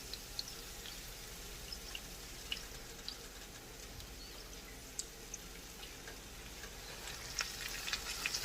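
Potato latkes frying in hot oil, a continuous close sizzle with scattered pops and crackles throughout and no talking.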